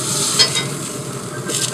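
A steak sizzles steadily on a hot cast iron BBQ plate on a Z Grills smoker right after being flipped, a close, continuous searing hiss with no talk.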